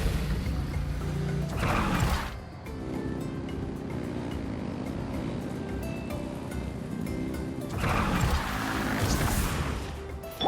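Ship engines revving in the game Genshin Impact, a loud churning roar with bursts of crashing water and surging at the start and end, continuous and close under game music.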